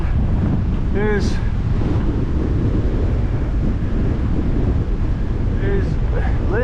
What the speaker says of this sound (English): so it's not too cold, but it's windy